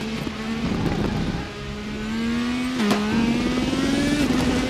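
A race car engine drones steadily around Silverstone in a racing video game. The revs hold, dip briefly, then climb again, close and continuous with no voices.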